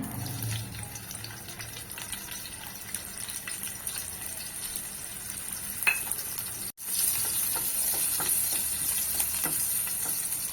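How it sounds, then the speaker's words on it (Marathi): Cumin seeds and finely chopped green chilies sizzle in hot oil in a pan, a steady, fairly quiet crackle with occasional stirring clicks and a brief break partway, no voices. "आता तेल गरम झालंय तर त्याच्यामध्ये मी थोडेसे जिरे घालते त्याच्यानंतर हिरव्या मी दोन मिरच्या घेतल्यात एकदम बारीक चिरून त्या घालते"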